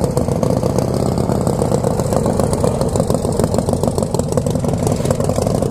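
A motorcycle with a large exhaust idles at the Bikes Blues and BBQ rally, its engine throbbing in a steady, loud, close rumble with no talk over it.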